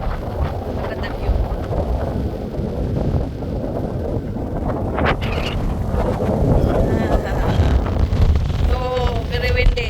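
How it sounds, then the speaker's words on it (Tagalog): Strong wind blows on a beach in New South Wales, roaring and buffeting the microphone continuously at high volume, with faint voices partly buried beneath. "Oh, very windy."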